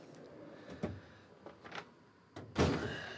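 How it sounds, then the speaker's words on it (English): A wrench drawer on a tool chest sliding, with a few rolling scrapes and thunks ending in a louder clunk, close and fairly quiet with no talk. "This drawer keeps running away from me."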